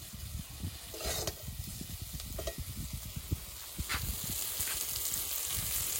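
Pumpkin flowers fry with onion in a pan with a soft, steady sizzle and crackle, and a few scraping stirs break through close by, with no talk.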